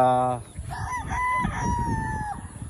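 A rooster on a farm crows once, loud and close, its long drawn-out call ringing over a noisy background of other chickens clucking and shuffling around it.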